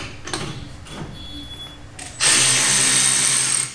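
A Milwaukee M12 FUEL 1/2-inch cordless ratchet spins bolts off, a few short clicks and taps followed by a loud, sustained high-pitched motor whir up close.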